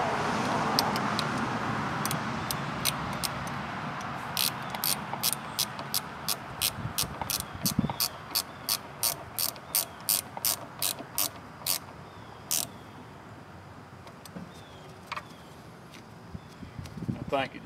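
A ratchet wrench tightens the battery terminal on a 1974 Ford 3000 tractor, a close, regular train of sharp clicks after some softer handling noise, with a short pause and a few final clicks.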